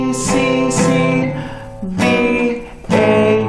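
An acoustic guitar plays the chorus of the LDS hymn Praise to the Man as single plucked notes, close and clear, each note ringing out before the next with a short pause between phrases.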